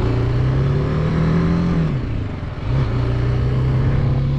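A 300cc street motorcycle on its original exhaust pulls hard in first gear with a steady, close engine drone. Midway the note dips briefly during a shift into second, then climbs again and holds, with no one talking.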